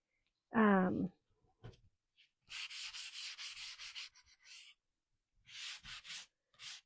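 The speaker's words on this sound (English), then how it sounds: "I think I'm just going to lightly sand them." Wooden picket craft pieces being lightly sanded by hand: close, dry rasping strokes come in two bursts of rapid back-and-forth rubbing, after a brief voiced sound at the start.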